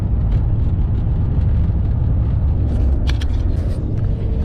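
A car driving on the road near Tampa, a steady low rumble of engine and tire noise heard from inside, continuous and fairly loud with a few faint higher sounds near the end.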